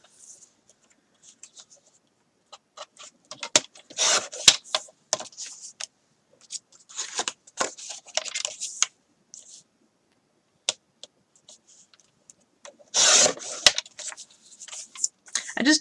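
Paper is cut for a summer-themed mini pocket letter kit, with soft, intermittent snips and rustling handling sounds in short clusters separated by quiet pauses, close and faint.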